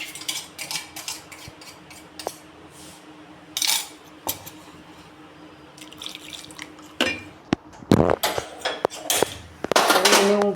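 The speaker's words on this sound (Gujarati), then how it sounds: "જુઓ, હવે એને હું આ એક તપેલી છે એની અંદર નાખી દઈશ" A ground mixture for wheat papad is poured and scraped into a metal cooking pot, giving scattered close clinks, knocks and wet splashes in irregular bursts that grow busier toward the end, with no talking.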